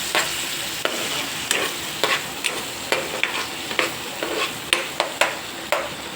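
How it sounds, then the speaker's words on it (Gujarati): Turmeric and salt being stirred into a tomato tempering in a pan: a steady frying sizzle broken by repeated scraping strokes of the spoon, close and clear, about two strokes per second with no talking. "હવે થોડીક હળદર, થોડુંક મીઠું ઉમેરીને એને હલાવી લેવાનું છે।"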